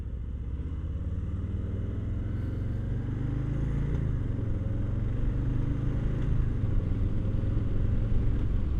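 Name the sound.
Harley-Davidson Low Rider S motorcycle riding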